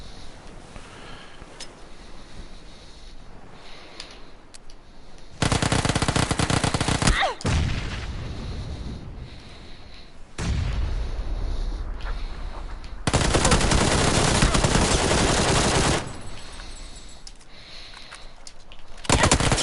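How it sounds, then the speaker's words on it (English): Automatic weapons fire in the PUBG video game, coming in long, loud, dense volleys with quieter gaps in between and no talking. "that was terrible shooting at the end"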